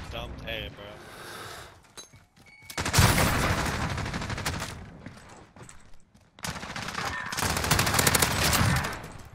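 Dense automatic gunfire from an AUG assault rifle in a video game, sustained bursts with brief gaps, loud and close with rattling impacts.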